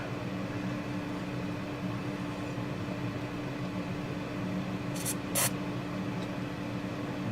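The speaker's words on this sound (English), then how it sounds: "spray some deoxit in the" Two short, sharp hisses of DeoxIT contact cleaner sprayed into the switch of a Yamaha Pacifica 721 electric guitar, over a constant mechanical hum.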